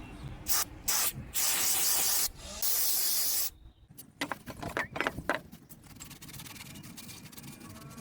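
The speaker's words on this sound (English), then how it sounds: "When I use starter fluid, I'm gonna spray a rag." Several short bursts of starter fluid spray hiss up close onto a rag, separated by pauses, followed by quieter rubbing and handling noises, during Toyota RAV4 cylinder head cover gasket work.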